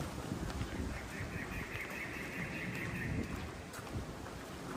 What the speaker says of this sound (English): It's pretty windy today, but even if it wasn't, it's totally exposed to the elements.